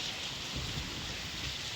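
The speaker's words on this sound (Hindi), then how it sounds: "ओए ओए बारिश" Steady rain pouring outside a house, a dense even hiss of falling water heard at low level throughout with no voices over it.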